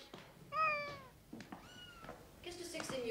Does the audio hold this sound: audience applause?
no